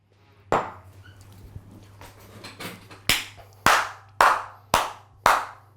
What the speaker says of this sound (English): I got a stand up round of applause for Core Nutritionals